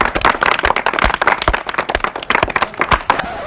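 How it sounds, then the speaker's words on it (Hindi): An audience claps loudly for Gangaram at a village comedy gathering, a dense run of sharp, fast hand claps from many people lasting throughout, close and steady. "गंगाराम के लिए एक बार जोरदार तालियां बजाओ"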